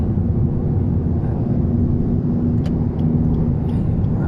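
A Lexus LS 500h hybrid luxury sedan accelerates for an overtake up to about 120 km/h, heard from inside the cabin as a steady low road and engine rumble with only faint changes in pitch.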